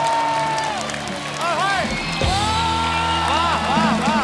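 A studio comedy show audience applauds and cheers as two singers are welcomed, a loud crowd roar with whoops and clapping, mixed with music and a voice over the top.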